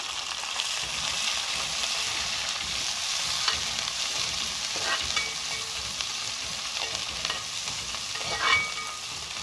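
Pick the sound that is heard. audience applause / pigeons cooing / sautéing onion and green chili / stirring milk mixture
sautéing onion and green chili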